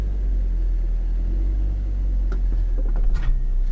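A 2023 Dodge Hornet runs on dyno rollers with its wheels slipping, giving a low steady engine rumble that swells slightly toward the end, joined by faint scraping ticks.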